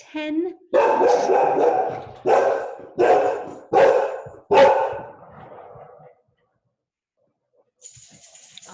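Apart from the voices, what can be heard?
dog barking at someone at the door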